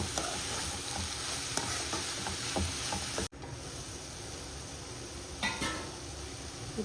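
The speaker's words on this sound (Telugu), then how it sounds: "ఇప్పుడు ఇదంతా బాగా కలిసేలాగా కలుపుకోవాలి" Cabbage and chana dal curry being stirred in a frying pan, a steady sizzle under scraping spoon strokes, with a brief cut midway and a few louder utensil knocks near the end.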